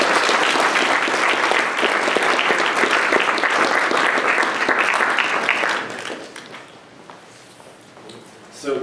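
Audience applause fills a lecture hall as a guest speaker is welcomed at a public speaker series event, dense and steady for about six seconds before tapering off into quiet room tone.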